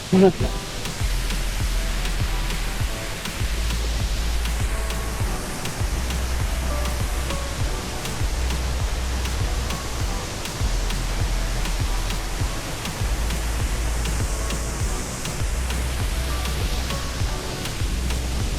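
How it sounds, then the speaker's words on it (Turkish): Small waterfall at the Tegalalang rice terraces near Ubud, a steady broadband rush of falling water filling the scene, with faint low rumble and no talk over it. "Görüyorsunuz anlatmıyorum şırıl şırıl akıyor."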